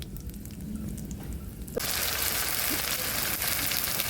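Green chili, chili paste and ginger paste dropped into hot oil with cumin and bay leaf for khichuri, bursting into a sudden loud, steady sizzle that holds after a quieter start.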